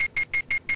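Repeated electronic beeping, five short bright tones at an even quick rhythm with brief gaps between them, clear and alone with no voices.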